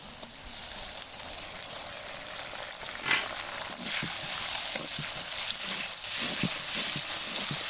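Onion with cumin, ginger and garlic paste sizzles steadily in a pan for chicken biryani, a soft hiss with occasional stirring clicks and scrapes.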